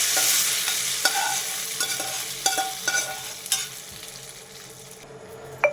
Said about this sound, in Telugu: పోపు దినుసులు ఇప్పుడు పప్పులో వేసుకుందాం.